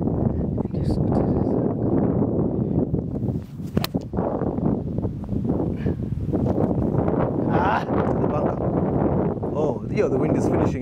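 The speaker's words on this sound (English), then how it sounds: "This wind is not your friend" Gusty wind buffets the microphone on a golf course at Germiston Country Club, a steady loud roar with rustling surges throughout, while golfers talk over it.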